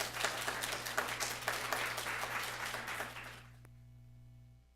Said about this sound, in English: give her a huge applause